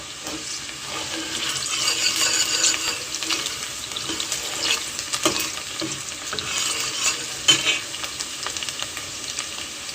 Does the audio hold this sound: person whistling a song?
no